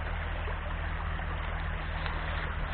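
A small river flowing steadily, a constant close wash of running water with a low rumbling undertone and no voices.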